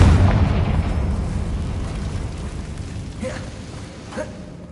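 A Confringo fire spell detonates in the Hogwarts Legacy video game, a loud booming blast that rumbles and fades over several seconds, followed by a couple of fainter crackling pops.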